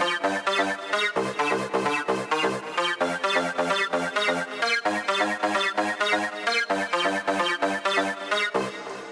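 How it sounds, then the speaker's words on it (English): A synthesized trance pluck plays a rapid, rhythmic sequence of short bright notes in steady repeating patterns, clean and loud with no voices. "We made a trance pluck."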